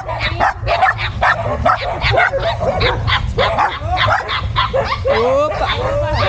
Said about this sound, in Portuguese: Nossa, tem muito cachorro!